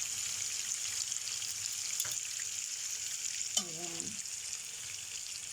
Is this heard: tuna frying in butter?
yes